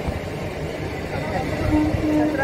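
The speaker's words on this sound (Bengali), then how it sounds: "এই দেখো এটা ডাউন ট্রেন ঢুকছে" Low rumbling of a train rolling in, with steady mechanical drone and faint squealing of wheels, growing slightly louder toward the end.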